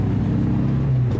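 A 1970 VW Bug drives in second gear into a curve, its air-cooled engine droning low and steady close by, with a slight change in pitch toward the end.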